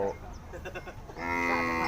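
Water buffalo low in a long, tonal moo at a busy buffalo market in Roi Et, rising out of murmuring background crowd noise and holding loud and steady to the end.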